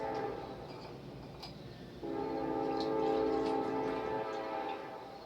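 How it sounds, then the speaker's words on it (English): A train rumbles in the background, faint and distant, with a sustained tonal horn-like drone rising partway through and then fading. "all my videos have that train in the background"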